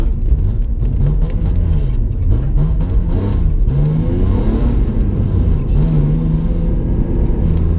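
A BMW E36 driving with its engine droning steadily, revs rising and falling in several swells over a constant low rumble, loud and close from inside the car with no talk.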